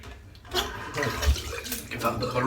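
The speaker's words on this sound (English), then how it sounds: "Give that a bit of a rinse." Water splashes and runs as a face is rinsed after a shave, close and uneven, with someone talking over it.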